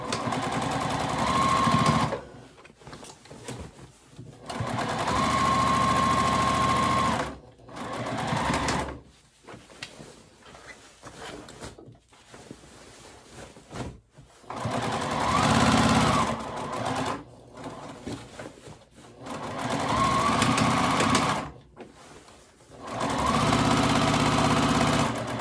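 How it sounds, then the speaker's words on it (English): A sewing machine back stitching the straps of a reusable tote bag runs in several loud, steady whirring bursts of two to four seconds, separated by short quiet pauses, with no talking. "To those straps, I am back stitching."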